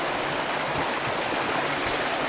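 Avery Creek flowing steadily beside a log bridge on a trail up to Twin Falls in western North Carolina, a close, continuous rushing wash of water with no voices.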